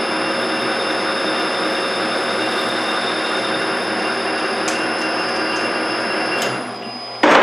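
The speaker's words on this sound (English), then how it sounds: "I'm going to drill and tap a 1/4 20 hole in the end before I thread it" A steady, loud drilling whine with a constant hum from the machine runs without a break as it drills a hole in the end of a metal part, dropping briefly near the end before a sharp burst.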